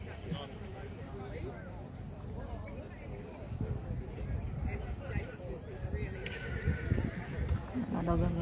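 Horse sounds with hooves clip-clopping amid a busy outdoor crowd at a horse event in Little River, Canterbury, New Zealand, people chattering throughout at moderate distance.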